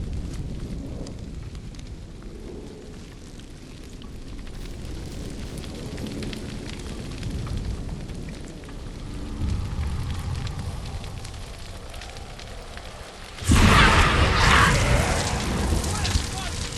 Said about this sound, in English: This is the fire.